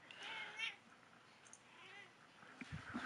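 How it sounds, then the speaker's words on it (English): A house cat meows in the background of a Minecraft gaming session, giving a few drawn-out, strained cries at moderate distance, with faint electronic game sounds alongside. "now my cat's in the background screaming"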